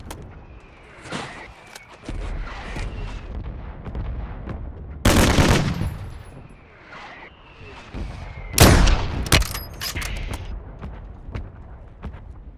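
Two heavy, close mortar impacts from a friendly strike in the shooter game Warzone land a few seconds apart, each a sharp broadband boom that rolls off, over a bed of ongoing gunfire and faint voices.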